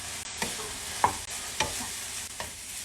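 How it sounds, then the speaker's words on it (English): Rice is stirred into a pan with rosemary and thyme alongside fried lamb chops, a steady nearby sizzle marked by a few spoon scrapes and soft stirring knocks. "I'm just adding my rice, and we're just gonna mix it on up."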